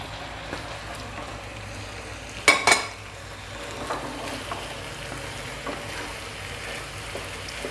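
Cooked green gram tipped into a hot pan and stirred while making Kerala sukhiyan, giving a low steady sizzle with a brief sharp clatter and hiss near the middle as the gram goes in, then quieter stirring.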